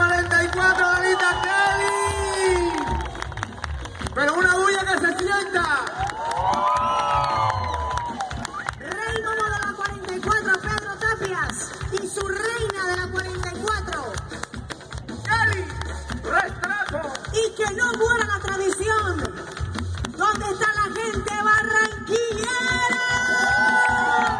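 A large festive crowd at a carnival celebration applauds and cheers to welcome the carnival queen, a steady wash of clapping and shouts mixed with voices and background music.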